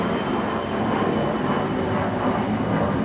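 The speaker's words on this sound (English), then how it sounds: "Hold on, there's an airplane." An airplane passes overhead as a steady, broad roar of engine and wind noise, fairly loud and continuous throughout with no speech over it.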